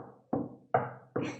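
Three evenly spaced, soft, dull thuds imitating shoe footsteps as a homemade sound effect, quiet and close, with nothing else around them.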